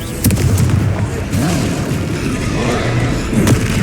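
In the video game Hogwarts Legacy, a Confringo spell explodes with a heavy boom amid continuous battle rumble, while voices talk over the fight.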